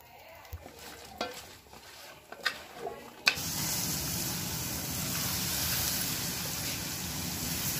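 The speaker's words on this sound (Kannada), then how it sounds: "ಗೋಬಿ ಹಾಕ್ಕೊಳ್ಳೋಣ. ನೋಡಿ, ಹಾಗೆ ಸ್ವಲ್ಪ ಶುಂಠಿ ಬೆಳ್ಳುಳ್ಳಿ ಪೇಸ್ಟ್ ಹಾಕ್ಕೊಳ್ಳೋಣ." Cauliflower with ginger garlic paste hitting hot oil for gobi manchurian: a few clinks and taps, then a sudden loud, continuous sizzle that holds steady to the end, close and busy.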